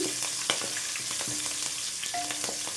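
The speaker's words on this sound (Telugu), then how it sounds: "కొద్దిగా కరివేపాకు అండి వేసేసుకొని మొత్తం మంచిగా కలిపేసుకుందాం. మంచిగా వేగాలండి ఇది." Curry leaves fry in hot oil in a pan for chickpea masala curry, a close continuous sizzle with crackles and occasional metal spoon clinks as the mixture is stirred.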